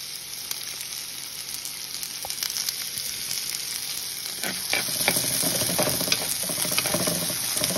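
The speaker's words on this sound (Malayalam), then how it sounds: "ഇപ്പം ജിഞ്ചർ ഗാർലിക് പേസ്റ്റ് ഇട്ട് കൊടുക്കാം." Ginger garlic paste frying in hot oil for a banana flower egg masala, giving a steady close sizzle with stirring scrapes that grows denser and louder partway through.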